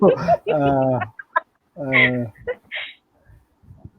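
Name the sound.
bird call imitation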